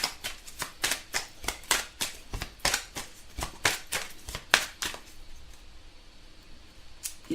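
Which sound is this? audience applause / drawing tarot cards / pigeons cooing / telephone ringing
drawing tarot cards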